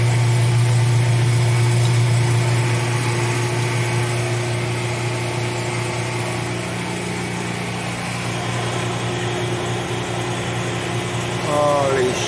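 An appliance spinning up and running steadily, most likely a washing machine in its spin cycle, with a strong low hum and harmonic whine that holds for the whole stretch, shifting slightly in pitch near the end.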